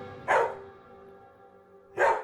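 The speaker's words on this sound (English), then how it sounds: "barked from somewhere ahead on the trail, sharp and excited" A dog on a wooded trail barks twice, two sharp, excited barks spaced well apart, at moderate distance, with a quiet pause between them.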